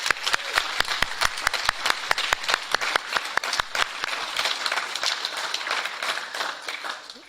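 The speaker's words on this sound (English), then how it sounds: "let's give Michael just another round of applause" Applause from the audience at a Hall of Fame awards ceremony honouring community members, many hands clapping steadily and close for about seven seconds before gradually thinning out at the end.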